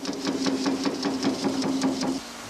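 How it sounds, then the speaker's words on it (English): An Eckold forming machine flattening sheet metal pounds out rapid, regular mechanical strikes, about five per second, over a steady hum, then stops abruptly. "The tools used for concentric or spot flattening remove dents and buckles from sheet and deep-drawn workpieces."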